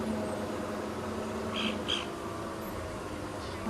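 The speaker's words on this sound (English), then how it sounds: "this is the bird that'll often tell us to go away when we are on foot" Two short nasal "go-wee" calls from a go-away-bird in quick succession, somewhat distant, over a steady background of outdoor hum on an African safari.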